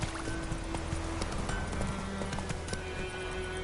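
Geralt's horse Roach galloping in The Witcher game, a steady rapid clip-clop of hooves under busy ambient game sound, with no talking.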